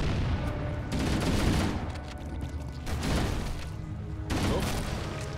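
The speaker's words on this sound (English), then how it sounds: "Grenade!" Loud grenade blast and battle noise in Halo: Combat Evolved, with dense overlapping bursts of gunfire and booms filling the whole stretch, swelling in several waves without a pause.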